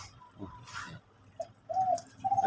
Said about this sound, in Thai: อันนี้ก็เสียงเจ้าเลี้ยวด้วยครับเด้อ